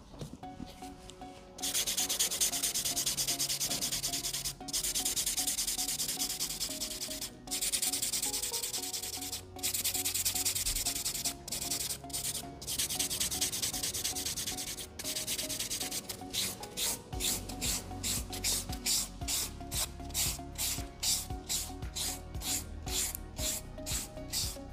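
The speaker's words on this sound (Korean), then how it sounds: "샌드 버퍼를 이용해서 꼼꼼하게 샌딩을 해주시고" A sand buffer is rubbed back and forth across a fingernail in steady close strokes, speeding into rapid, evenly spaced scratchy passes toward the end, with no talking.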